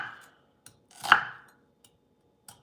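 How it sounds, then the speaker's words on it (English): A knife chopping an onion into small pieces on a cutting board, a few sparse dry taps with one louder, longer cut in the middle, quiet and isolated with no talking. "So we're just cutting up an onion pretty small."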